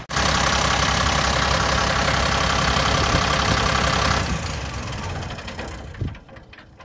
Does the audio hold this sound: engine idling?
yes